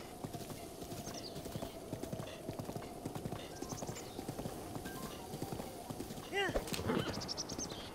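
A horse trots in Zelda: Breath of the Wild with steady, rhythmic clip-clopping hooves over quiet ambience, and a brief whinny comes near the end.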